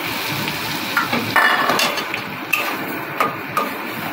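Green pea paste fried and stirred in a pan for pea kachori, with a soft continuous sizzle and scattered scraping and clinking of a spatula against the pan, several sharper knocks standing out.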